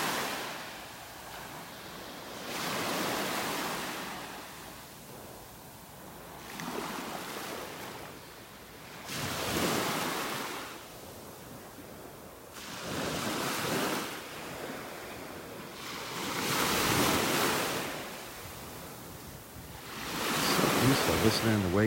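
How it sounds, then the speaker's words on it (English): Ocean surf rolls in on a North Naples, Florida beach, about six waves breaking and washing ashore in slow regular surges, each swelling then fading, with light wind noise on the microphone. "Listening to waves coming in."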